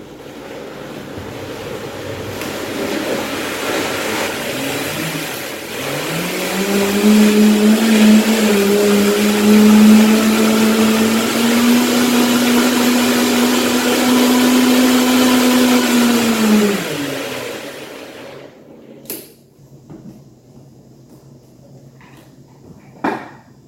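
A blender whirs loudly for about ten seconds as it blends an antioxidant breakfast smoothie, starting with a low rumble, rising to a steady high whine, then cutting off and leaving a few faint clicks and knocks.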